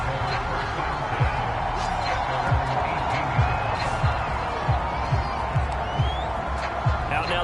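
Stadium crowd cheering in an EA Sports American football video game, a continuous dense roar with scattered claps and shouts at moderate distance, carrying on steadily throughout.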